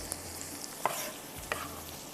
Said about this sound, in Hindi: यहाँ पर हम प्याज और टमाटर भी, जब तक ये थोड़े सा हल्का सा फ्राई होगा